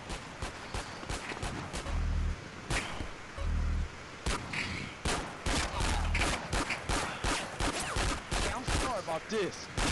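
Rapid gunfire in GTA San Andreas, a character in flip-flops and a leopard cowboy hat shooting, with repeated loud sharp bursts and single shots across the clip and voices talking over it.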